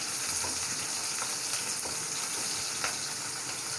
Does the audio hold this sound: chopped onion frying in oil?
yes